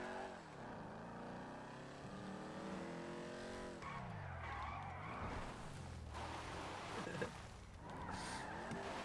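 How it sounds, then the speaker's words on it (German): A car drifting in GTA Online, its engine revving and shifting pitch while tires squeal and skid across the surface, loud and close, with a brief thump near the end. "geiler Drift"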